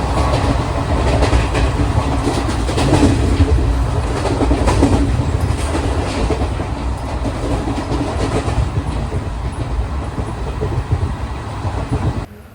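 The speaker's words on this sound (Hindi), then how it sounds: "रात के वक्त में ट्रेन जब 110 की रफ्तार में चल रही थी तो अजीब सी कंपन जो वो हो रही थी" Varanasi–Ranchi express train heard from inside a sleeper-class coach at night, running at about 110 km/h: a loud, continuous rumble with rattling clickety-clack and vibration, steady throughout until it cuts off at the end, with no talking.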